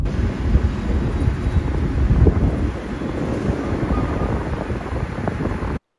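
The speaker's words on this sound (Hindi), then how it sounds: "हवा बहुत बहुत ही बढ़िया चल रही है" Strong wind blows at Har Ki Pauri in Haridwar and buffets the microphone. The sound is a loud, continuous gusty roar that lasts the whole time with no speech, then cuts off abruptly at the end.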